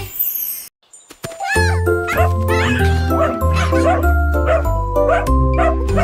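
A small dog yips and barks repeatedly in quick succession, close and loud, over a musical backing with a jingling tone.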